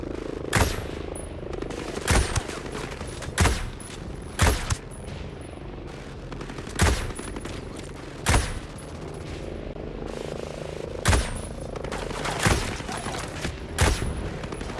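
Gunfire from the Ghost Recon Breakpoint video game: sharp bursts and single shots spaced every second or two across the stretch, loud and punchy over a constant background rumble.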